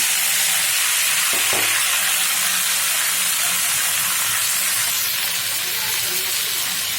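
Karmi greens (shak) with chopped onion frying in a pan, a loud, dense, continuous sizzle close up, with one brief knock near the start.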